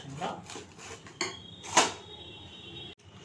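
Cake batter stirred steadily in one direction in a bowl, with close scraping and clinking strokes and a sharp tap partway through, under a quiet voice.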